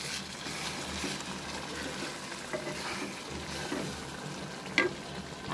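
Chana dal and egg curry is stirred in a pan, a low bubbling sizzle with soft wet scraping and a brief clink of utensil against metal near the end.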